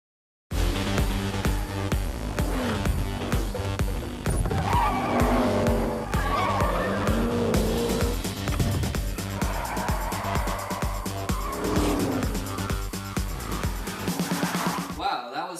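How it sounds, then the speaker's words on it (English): Cars in a movie chase skid and squeal their tires around sharp turns, with engines roaring continuously and repeated tire shrieks over dramatic music, loud throughout and ending abruptly. "How did their cars stay on the road like that when it takes such turns?"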